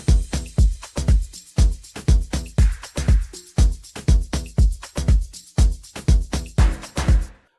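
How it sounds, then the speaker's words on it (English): A Nexus plug bass using the UK Pikes preset from Plugged plays a repeating pattern of punchy, deep synth notes in a steady afro tech house rhythm, loud and close, with no voices. "The phase bass, it's a plug bass, which comes from Nexus."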